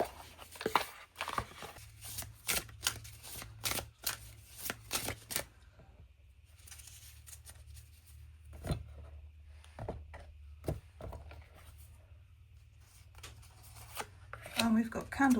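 Yule Oracle cards are shuffled in quick, close riffling bursts, then quieter handling with a few isolated flicks, and a renewed burst of card noise at the end.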